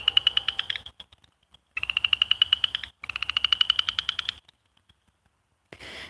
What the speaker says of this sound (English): Those frogs are right here in the watering hole.